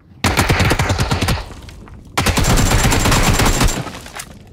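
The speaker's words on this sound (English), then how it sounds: "Little hip fire AK action." Two loud bursts of rapid AK rifle hip fire in a first-person shooter video game, each a dense automatic string of close, sharp gunshots lasting about a second and a half.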